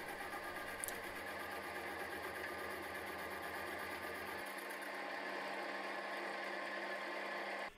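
A slitting saw on a machine cuts a slot into a small metal guitar part clamped in a collet, a steady loud mechanical whir with even rhythmic texture that drops to a lighter hum partway through.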